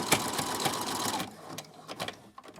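A sewing machine stitches a coaster made from fabric scrap twine with a steady, fast mechanical rattle that stops partway, followed by a few faint clicks and taps.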